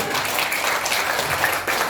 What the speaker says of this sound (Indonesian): Beri tepuk tangan buat manajemen Bapak Ibu